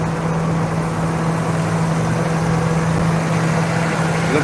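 Citroen 2CV's small twin-cylinder engine idling on a dyno, a steady, even low drone with a constant hum, loud and close throughout without any talk.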